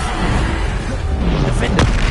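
A loud, dense rumbling boom from the Bombarda explosion spell in Hogwarts Legacy fills the moment with game combat noise. A sharp crack sounds near the end, and a voice may be mixed in.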